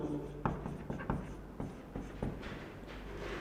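Pen strokes scratch and tap in short bursts while notes are written during a chemistry lesson on sigmatropic reactions, recorded close with quiet room tone.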